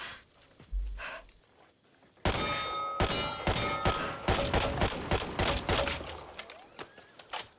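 Gunfire in the zombie shooter Back 4 Blood: after a quieter opening, a loud burst of rapid shots begins, then repeated sharp bursts and single cracks with metallic clinks follow in an irregular rhythm.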